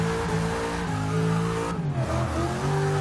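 A supercharged WS6 Trans Am in a racing video game slides with a continuous engine drone and tire squeal, its pitch dipping and rising as it loses grip, steady and fairly loud with no voices.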